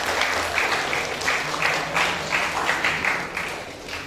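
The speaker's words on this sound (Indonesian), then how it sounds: "Berikan tepuk tangan untuk kita semua." At a vocational school graduation ceremony in Cimahi, an audience applauds in a steady, even wash of clapping that carries on throughout without talk.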